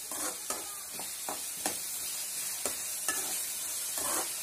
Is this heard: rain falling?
no